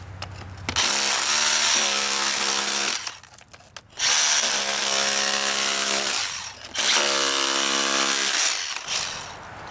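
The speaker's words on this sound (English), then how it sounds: "switch it to chipping mode to remove mortar and" A Milwaukee M18 FUEL SDS-Plus rotary hammer with a chisel bit chips out mortar. It roars loudly in three sustained bursts separated by short pauses.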